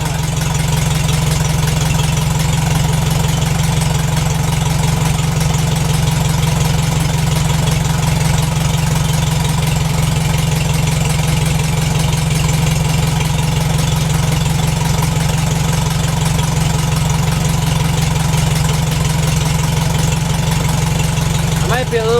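A 1951 McCormick Deering W4 tractor engine idles after a cold crank start on a chilly day, a loud, steady low chugging that runs evenly and close-up throughout without a break.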